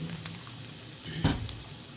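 Steady sizzling of garlic frying in a hot pan, with a few clinks and scrapes of stirring.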